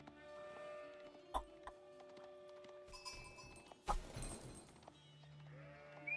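Sheep in the Age of Empires video game bleat in short, faint calls amid soft game clicks and chimes, with a few sharper effects punctuating the quiet match.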